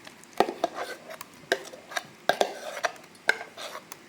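A spoon repeatedly knocks and scrapes against a metal vessel in short, irregular clinks as chutney is transferred, with no talking.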